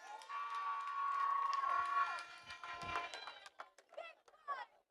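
An outdoor crowd at a St. Kitts-Nevis Labour Party public meeting in Old Road cheers loudly with whoops and shouts, then thins to scattered yells and calls over a few seconds.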